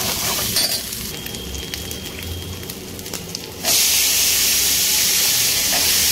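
Turmeric fries in oil with a soft sizzle and a few taps. Eggplant pieces then drop into the pan, and a much louder, steady sizzle takes over to the end.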